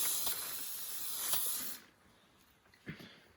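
A chrome spray paint can hisses in a loud continuous burst for under two seconds, then stops, followed by a short quieter puff.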